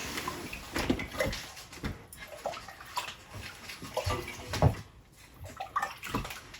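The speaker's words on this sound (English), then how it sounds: "We'll just get some hot water here" Hot water pours and splashes into a vessel in a home kitchen for a carob drink, a faint uneven trickle broken by a few small clinks and knocks with no talk over it.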